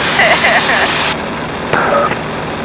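Piper PA-22 Tri-Pacer light aircraft engine droning steadily in flight, a loud continuous cabin-level hum with a brief tonal interruption, no talk over it.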